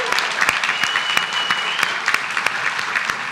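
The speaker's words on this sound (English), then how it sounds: "Let's give them a round of applause." A crowd applauding steadily at a city council meeting, dense clapping that stays at an even, loud level throughout.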